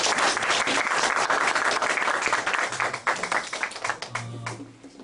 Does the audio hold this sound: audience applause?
yes